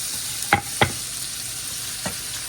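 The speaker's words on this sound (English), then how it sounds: "put that teriyaki on there, just to oil that pan, and get them going" Teriyaki-coated chicken frying in an oiled pan for a spicy teriyaki dinner, a steady soft sizzle with a few sharp scraping clacks as pieces are turned, close and alone.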